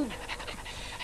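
A cartoon dog pants quickly in short, breathy bursts, close and moderately loud, over a brief stretch.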